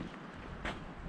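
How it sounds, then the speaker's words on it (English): Wind blows across an outdoor spot in the Canadian wilderness, a steady rushing gust that buffets the microphone with a brief louder surge. "A little windy."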